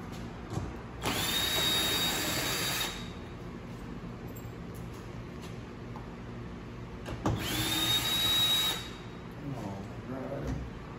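A socket wrench backs out 10 mm bolts from the rear hatch panel of a Toyota 4Runner, giving two whirring ratchet-like bursts of a couple of seconds each, close up, with quieter handling and faint clinks between.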